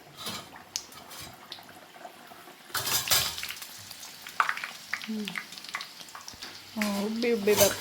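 Sweet snacks cut from a single dough are dropped one at a time into hot oil, giving a steady crackling sizzle with stirring and clinks of a utensil against the pan, while people talk intermittently nearby.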